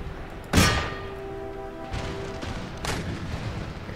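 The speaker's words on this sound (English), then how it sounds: "Can we get the guns to fire at that?" Cannon fire in the video game Empire Total War: one loud booming shot followed by fainter distant reports and a metallic ringing tone, with battle noise underneath.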